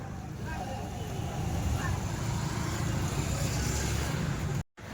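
Vehicles pass by steadily on a busy market day, giving a continuous loud rumble and traffic noise with some wind buffeting, ending in a brief dropout.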